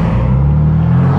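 Straight-piped BMW M4 F82 exhaust held at a loud, steady rumbling drone for a moment, deep and close, with no voices.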